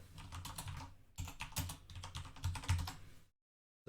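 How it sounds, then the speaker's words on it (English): Rapid typing on a computer keyboard, close and fairly loud, clattering in dense bursts for about three seconds with a short pause near the middle, then stopping into silence. "I can't type at all."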